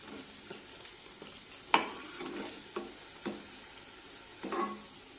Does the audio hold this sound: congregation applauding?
no